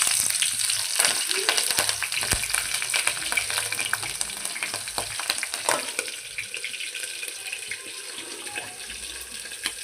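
Sliced onions and green chilies sizzle and crackle in hot oil for a chicken curry, a loud, steady close-up frying hiss with occasional stirring scrapes and no talk.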